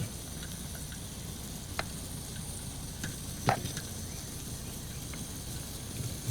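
Catfish stew sizzles softly in a pot outdoors in a Louisiana swamp camp, a steady low fry with a few sharp clicks and one knock of a stirring utensil, fairly quiet overall.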